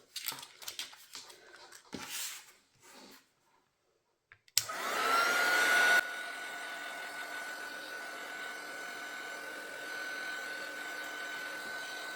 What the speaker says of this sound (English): I think I'll come in with my heat tool and just dry them